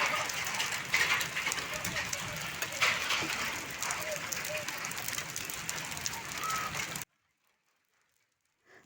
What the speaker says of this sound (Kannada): ದಪ್ಪ ದಪ್ಪಕ್ಕೆಲ್ಲ ಆನ್ಕಲ್ ಬೀಳ್ತು